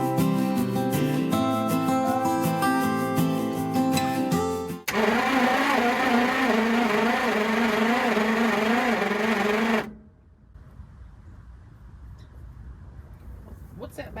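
The starter cranks the engine of a 1966 Ford truck in a long, rhythmic whirring grind that does not catch, then cuts off and leaves faint background noise.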